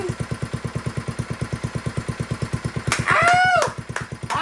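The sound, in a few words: 1950s tiller engine with Mikuni carburetor idling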